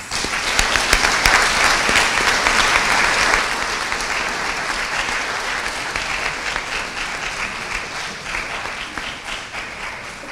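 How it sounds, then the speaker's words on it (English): Audience applause at a public forum on the Sustainable Development Goals, a long, full round of clapping from a large crowd that starts strong with sharp individual claps and gradually thins and softens over about ten seconds. "I request of you, please, to join me in a round of applause"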